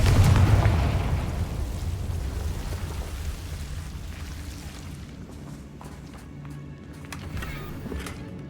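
A Confringo blasting spell in Hogwarts Legacy explodes at the opening with a loud boom, then rumbles and trails off into a long fading roar with scattered crackles.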